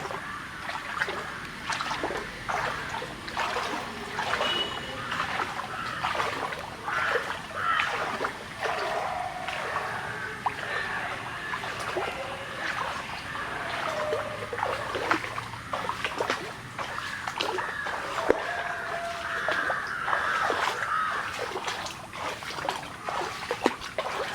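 Floodwater from an overflowing stream rushes around a house during extremely heavy rain, making a continuous churning, splashing flow with trickles and gurgles at moderate distance, steady throughout with no talk.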